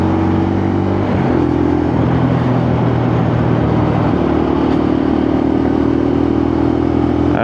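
Lexmoto LXR SE motorcycle engine on a road test ride along a dual carriageway, a steady mid-pitched drone that shifts tone as gears change and the bike pulls up to speed, loud and continuous with wind and road noise throughout.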